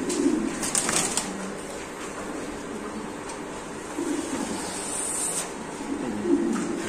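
A male fancy pigeon at a pigeon farm coos in low, throaty rolls, heard three times at moderate distance over a soft background hum, with no talking.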